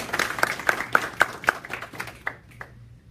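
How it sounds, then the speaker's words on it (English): Small group at an Ignite talk event gives a short round of claps, several distinct, fairly close hand claps in an uneven rhythm that thin out and stop after about three seconds. "Round of applause for Joe."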